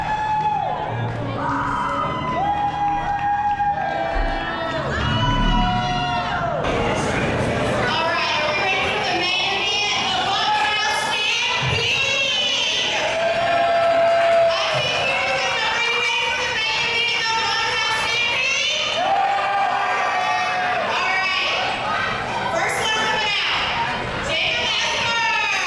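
A wrestling crowd at a live event cheers and shouts, many voices including children yelling and whooping, a sustained loud roar that swells after the opening seconds and carries on throughout.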